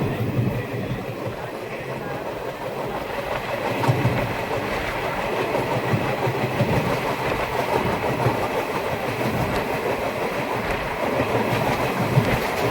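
A Tinpahar–Rajmahal passenger train rolls slowly along the rails, with a continuous rumble and steady clickety-clack of wheels at moderate loudness throughout.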